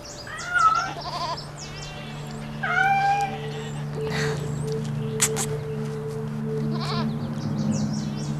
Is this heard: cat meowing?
yes